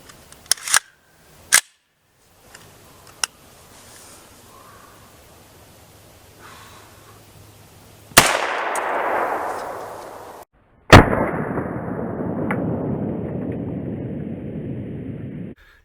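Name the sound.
300 Blackout pistol gunshots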